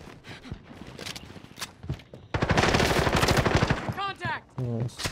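Rapid automatic gunfire in Call of Duty Warzone, dense sustained bursts loud and close after quieter scattered shots, with a voice calling out over the firing.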